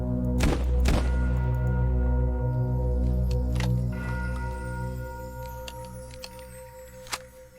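Reloading a sawed-off double-barrel shotgun in ARMA 3, one barrel at a time: two close, heavy thunks in quick succession, followed by a few fainter mechanical clicks and a sharp final click, over a steady low game drone.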